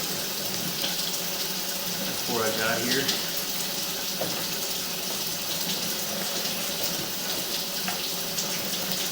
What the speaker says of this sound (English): as we run this water